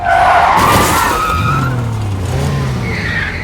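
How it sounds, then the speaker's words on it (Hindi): A car skids with a loud, sustained tire squeal and sweeping engine tone up close, lasting a few seconds; no clear crash impact stands out at the end. "तभी एक गाड़ी अर्नव की गाड़ी से टकरा गई।"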